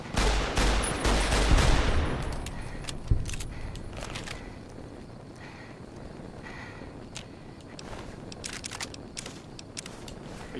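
Gunfire in the Fallout: New Vegas Honest Hearts game, a loud burst of several rapid shots up front, then scattered fainter pops and clatter trailing off against a low background.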